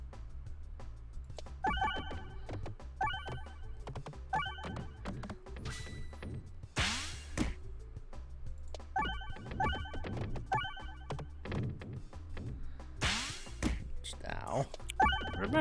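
A telephone rings during a stream of the game Peglin, sounding in two clusters of repeated bell bursts. Other clunks and thuds mix in, and people talk around the ringing.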